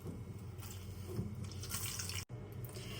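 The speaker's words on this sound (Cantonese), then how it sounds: "我哋就可以開水喉" Water runs steadily from a tap over soaked fish maw being cleaned, with a continuous splashing hiss, briefly cut off for a moment before flowing again.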